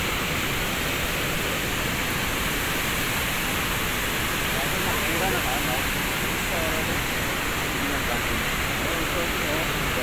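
Blangsinga waterfall in Bali pours in a constant, even roar of rushing water that fills the whole stretch at a steady level.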